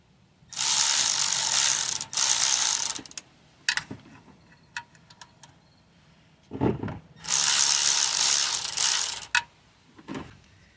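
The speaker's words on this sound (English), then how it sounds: "I'm gonna be taking out the oil pan right now, and these are 12mm bolts." A hand ratchet loosens 12 mm oil pan bolts on a Hyundai engine during timing chain and head gasket work, with two long bursts of rapid, loud clicking separated by scattered knocks and short clicks.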